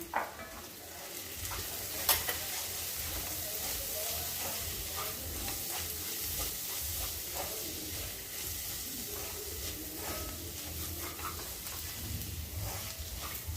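Coriander powder being sautéed in a pan for a goat liver roast: a continuous soft sizzle runs under repeated scraping and stirring strokes, with occasional light clinks of a utensil against the pan.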